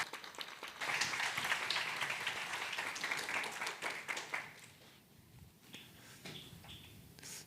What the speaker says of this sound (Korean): 큰 박수와 환호로 모시도록 하겠습니다